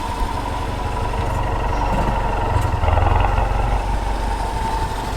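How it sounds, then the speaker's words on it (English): Exhaust of a tuned Ford Mustang EcoBoost with audible turbo, a steady close engine drone with a brief rise in revs midway and faint whistle-like tones above it, no voices. "You can hear the turbo from the exhaust."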